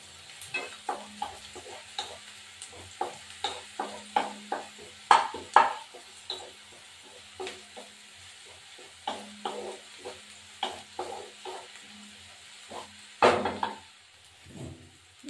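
Onions frying in a pan while being stirred, a steady low sizzle broken by a regular run of close, sharp scrapes and knocks of a spoon against the pan, with no talk.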